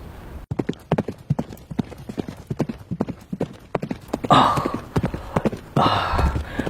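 Horse hooves clip-clop in a steady, close rhythm on a hard surface, brief clean knocks repeating throughout, with a voice breaking in twice near the end.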